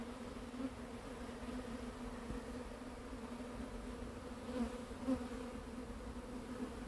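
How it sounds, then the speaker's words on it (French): A steady, close buzzing of a few honeybees hovering nearby while a swarm is being hived, with a couple of louder passes near the end. "il y a 2-3 abeilles qui me jaugent là"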